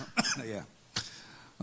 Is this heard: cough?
yes